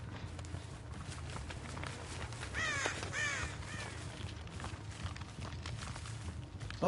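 Several crows caw in the Dead by Daylight video game, a few harsh calls clustered in the middle over a steady ambient background hum, with no talking.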